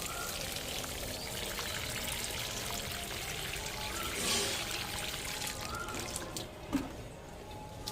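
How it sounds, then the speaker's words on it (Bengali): Water is poured around a newly planted mango sapling, a soft continuous trickle and splash with a few drips, quiet and close, with no talk. "এখন আমি জল দিয়ে দিচ্ছি জল দিয়ে দিলাম"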